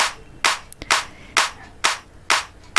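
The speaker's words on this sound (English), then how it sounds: "Now only the clap sound is produced" Sampled clap sound played back from a DAW, six crisp dry claps in a steady rhythm about half a second apart, alone and close with no other sound.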